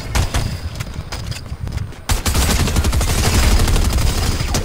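Video game gunfire in Fortnite, with loud rapid shots crackling close by in dense bursts that run through most of the moment, over a scuffle of game sounds.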